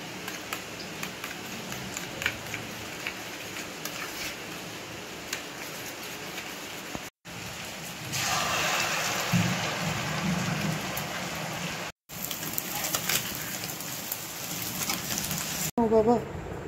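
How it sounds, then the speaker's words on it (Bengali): Rain falls outside a home in a steady, even hiss that carries on throughout, with a few brief dropouts and faint voices in the background. "বাইরে বৃষ্টি"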